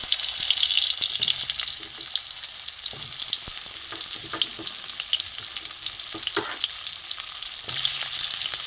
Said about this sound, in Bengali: এবার আমি পটলগুলো ভেজে নেব।